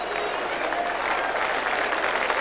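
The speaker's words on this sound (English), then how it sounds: "Shane Morwood receiving some applause for his efforts" Stadium crowd applauding a substituted player during a 1989 State of Origin Australian rules football match between Victoria and South Australia, a dense continuous clapping that stays loud and even for the whole stretch.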